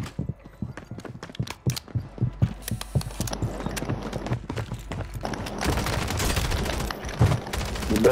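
Gunfire in the video game Call of Duty Warzone: scattered sharp shots early, then denser rapid bursts building into continuous loud firing toward the end.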